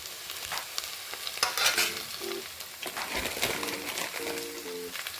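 Wild bitter gourd fries in a pan with a constant close sizzle and occasional stirring clatter, with a faint tonal sound drifting in near the end.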